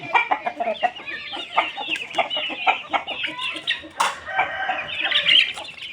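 A rooster crows repeatedly amid busy clucking and squawking from several chickens, close and lively with no talking.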